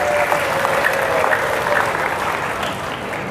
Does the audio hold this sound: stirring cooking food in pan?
no